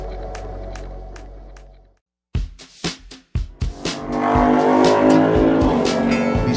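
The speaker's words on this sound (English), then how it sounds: "We set out together, engines echoing through the morning air." Motorcycles on a group ride in North Carolina, bound for the Blue Ridge Parkway, rev hard. A steady engine drone cuts to a brief silence, then sharp throttle bursts build into a loud, continuous roar as the bikes pull away.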